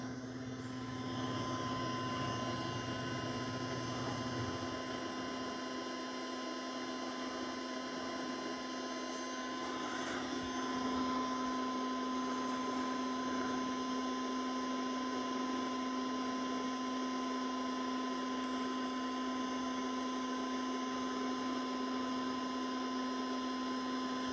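A MOVA Z60 robot vacuum hums steadily nearby, a constant whirring motor drone with a high whine, continuous and unbroken with no speech.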